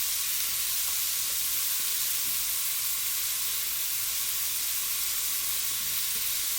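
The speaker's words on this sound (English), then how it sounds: "I'm going to give my pasta a bit of stir now, as that's all gone into the pan now, and that's going to boil away" Spaghetti boiling and being stirred in a pan, a loud, dense steady hiss and bubbling roar throughout with faint stirring beneath, no talking.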